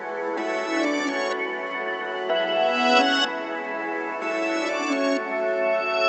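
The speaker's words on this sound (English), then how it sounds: "I made the actual melody with Electra X and like with proper presets." A synth melody built from Electra X presets plays alone in a steady, bright, repeating pattern of sustained notes, at moderate level with no voices.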